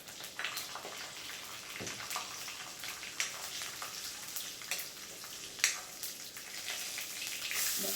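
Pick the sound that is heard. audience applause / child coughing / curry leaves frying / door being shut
curry leaves frying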